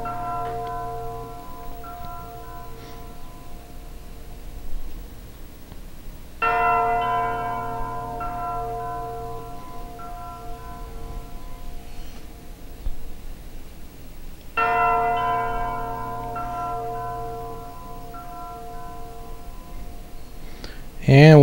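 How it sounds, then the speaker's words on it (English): Wedding bells ring from a chapel in the Valkyrie Profile video game, two distinct rounds of bright, resonant chiming over a quiet backdrop, each fading out slowly. "you hear the wedding bells going on"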